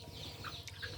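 Backyard chickens clucking while feeding, several soft clucks and short calls close by over a low steady background hum, with no talking.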